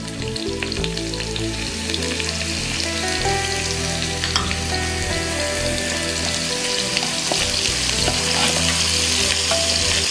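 Hot oil sizzles and crackles steadily as chopped shallots fry after mustard seeds have popped, with occasional stirring scrapes in the pan.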